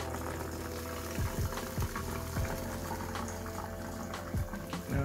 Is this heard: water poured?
yes